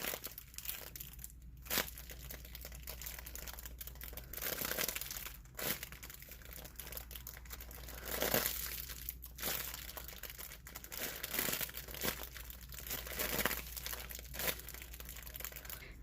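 A handmade squishy toy is pulled out of crinkly plastic packaging, giving repeated close crumpling and crinkling bursts with brief tearing sounds over a quiet background.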